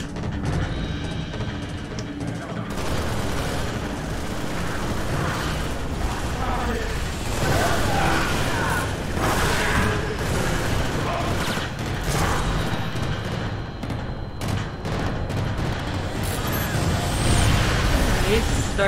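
In Halo Reach, a sticky grenade blast and bursts of gunfire sound through dense, continuous game combat noise, with players talking over the action.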